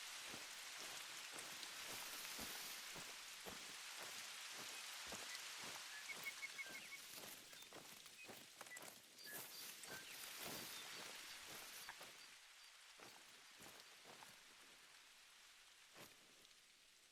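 Heavy rain pours steadily in a hunting game set in New Zealand's wild outdoors, a dense hiss broken by frequent drip and splash transients, with a few faint bird calls and no voices.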